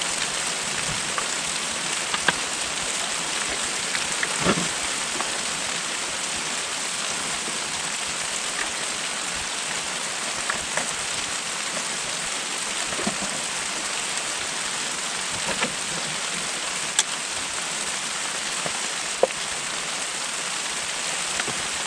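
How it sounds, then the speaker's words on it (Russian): Steady heavy rain falls outside a hut in winter, a dense constant hiss with occasional louder drops striking nearby surfaces, continuous throughout with no talking. "Ух, дождик выпускает."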